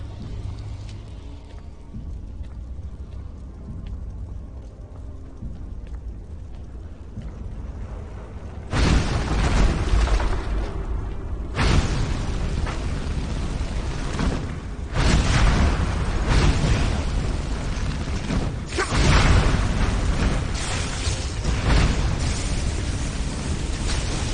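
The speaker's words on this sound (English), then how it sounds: "Explosion got him." Explosions in the fantasy video game Enderal: Forgotten Stories, a series of loud booming blasts with rumbling bursts that recur every few seconds over a continuous low roar, with no talk.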